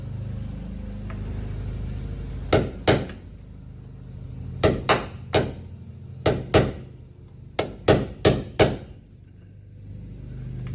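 Sharp metallic hammer strikes on a center punch marking the middle of a bolt for drilling, landing in small clusters of two or three, ringing hits separated by pauses over a low background hum.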